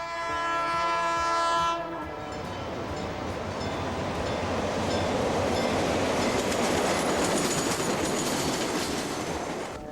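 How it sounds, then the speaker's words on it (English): An EMD E-unit first-generation diesel locomotive on a Chicago commuter train sounds its horn briefly at the start, then a loud, continuous rumble and rhythmic wheel clatter as the train passes close by. "EMD E-units still handle commuter trains in Chicago."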